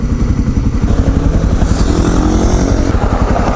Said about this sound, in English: Hey, another supermoto.